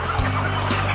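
Chickens at a commercial poultry layer farm holding about 10,000 birds cluck and call faintly over a steady mechanical hum, in a short, close-sounding burst.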